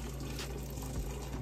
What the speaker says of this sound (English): So last pot of water that I am adding.